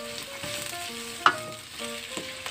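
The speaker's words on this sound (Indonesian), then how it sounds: "Kita tumis hingga benar-benar layu wortelnya." Julienned carrots stir-fry in a wok, giving a steady sizzle with intermittent clinks and scrapes of a utensil tossing them, close and loud, with no talking.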